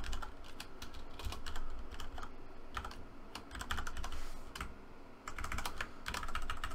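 Quick, uneven clatter of computer keyboard typing, close and steady, with bursts of keystrokes and brief pauses over low background hum, no voices.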